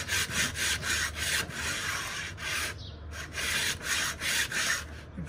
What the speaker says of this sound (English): you have to get out the planer.